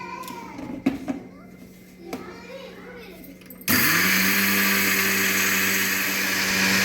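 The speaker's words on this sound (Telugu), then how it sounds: "ఇప్పుడైతే మిక్సీ పట్టుకుంటున్నా చూడండి friends so sugar three glasses వేసాను కదా అదే ఇప్పుడు మిక్సీ పట్టుకోవాలి మనం" A person speaks briefly, then a mixer grinder starts abruptly grinding sugar into powder and runs with a loud, steady whirring grind until the end.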